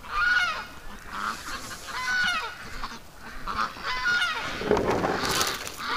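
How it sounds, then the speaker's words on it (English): Geese honk repeatedly at close range while pecking at carrots, a steady run of loud, nasal calls with overlapping voices and no talk. "the geese are actually pecking at the carrots pretty steady."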